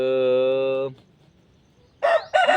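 A rooster crows once, loud and close, a long ringing call that breaks off into near silence before short clucking or squawking bursts from the farmyard bird follow.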